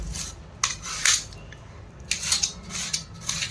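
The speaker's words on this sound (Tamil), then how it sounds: "நம்ம சின்ன சின்ன ஸ்லைடாக கட் பண்ணணும்" Knife slicing banana stem into small pieces, a series of short crisp cuts in irregular bursts, close and fairly quiet with no talking.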